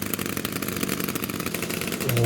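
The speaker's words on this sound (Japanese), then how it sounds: "続いて2台目の方も同様にエンジンをかけていきます。" Two two-stroke brush cutter engines run at idle close by in a continuous, buzzing, rattling drone that swells slightly toward the end.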